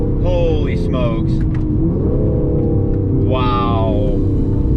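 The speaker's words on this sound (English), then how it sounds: "Alright guys, new Aston Martin Vanquish." A new Aston Martin Vanquish engine drones loud and close, then revs up in two rising surges, with a voice talking briefly over the early part.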